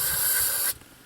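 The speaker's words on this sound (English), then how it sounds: "What I'm doing is just spraying" A close, loud hiss of aerosol spray cleaning a Ford 8N tractor carburetor, lasting under a second, then cutting off abruptly.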